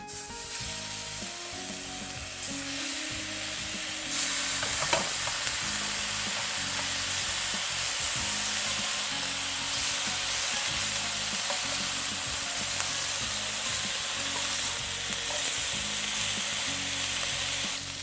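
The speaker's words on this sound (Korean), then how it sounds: "베이컨은 색깔이 살짝 나기 시작하면 바로 꺼내주도록 하겠습니다" Bacon sizzles and fries steadily in a pan during an egg-in-a-hole brunch preparation, a continuous close crackle that runs for the full length with no talking.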